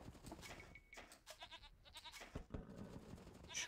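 Sheep bleat in Age of Empires II: Definitive Edition, several wavering cries close together over a busy bed of in-game ambience.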